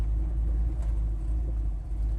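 A 510 HP 1972 Chevy Nova idles with a deep, steady, close-up rumble and a low, even engine throb throughout.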